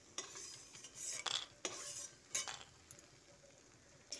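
Fried lentil dumplings (bori) lifted out of hot oil in a pan, with several sharp scraping and clinking strokes of a utensil against the pan over a faint background sizzle, close and alone with no talk.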